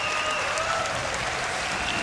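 A crowd at the 2015 US Open badminton championship, during a women's singles match between Nozomi Okuhara and Sato, applauds in a steady, dense burst of clapping that fills the hall evenly throughout.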